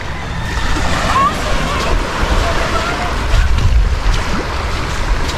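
Sea waves wash steadily against a rocky shore at high tide, with strong wind buffeting the microphone, and people talk in between.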